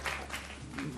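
A TV studio audience applauds in a steady, even wash of clapping that stays fairly soft and continuous throughout, with no voices rising above it.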